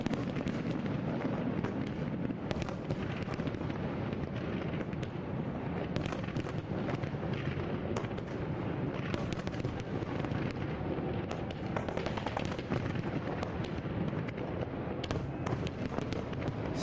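New Year's Eve fireworks show bursting continuously for many seconds, a dense barrage of cracks and pops over steady rumbling and wind noise on the microphone, heard at a distance with no talk.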